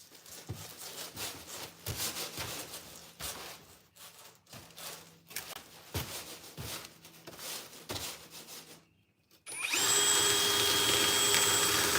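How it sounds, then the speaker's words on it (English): Scraping and grinding of a hand drill boring into a shop roof comes in uneven bursts, then stops and gives way to a loud, steady whirring hum. "That's where we drill our hole."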